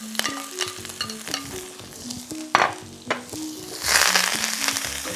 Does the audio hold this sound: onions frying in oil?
yes